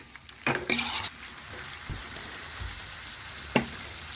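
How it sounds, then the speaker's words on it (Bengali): A spatula stirs katla fish head pieces into pumpkin in a pan, giving a couple of sharp scraping clatters and a later knock over a quiet, steady frying hiss, close by. "আমি এখানে খুরপি দিয়ে দেখুন এইভাবে টুকরো টুকরো করে ভালোভাবে কুমড়োর সাথে মিশিয়ে নিচ্ছি"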